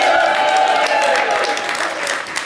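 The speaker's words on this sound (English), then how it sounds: "I want you to warmly, warmly applaud for all of them" Audience applause greets officials introduced one by one at a Guyana Republic Golden Jubilee celebration, a dense, steady burst of clapping from a large crowd that runs on without a break.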